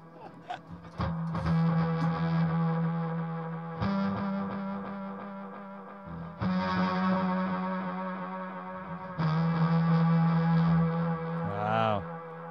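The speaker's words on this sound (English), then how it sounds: "See, now he's Space Echo." Boss Roland Space Echo tape-delay effect on a sustained, distorted tone during a recording gear demo, with repeating echoes and swelling modulation in long loud bursts, ending in a warbling pitch sweep.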